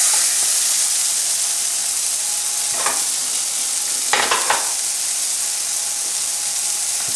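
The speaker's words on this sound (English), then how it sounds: "We'll let these fry just for a couple minutes on each side." Pork sausage frying in a 10-inch skillet gives a steady close hiss of sizzling fat, swelling into a couple of brief crackling bursts midway before settling back to an even fry, with no talk.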